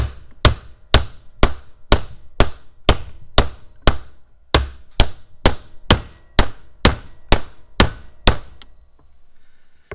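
A light hammer strikes the metal double cardan U-joint of a 1999 Dodge Ram 2500 front driveshaft in a steady rhythm, about eighteen sharp, ringing blows close up, stopping near the end.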